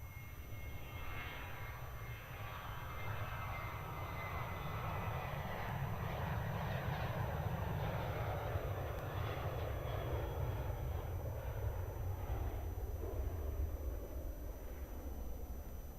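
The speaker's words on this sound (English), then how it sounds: "That was Qantas 470 heading out to Sydney." A Qantas jet airliner departing Melbourne Airport for Sydney roars steadily from a distance, a broad rumbling engine sound swelling and slowly fading over the whole stretch.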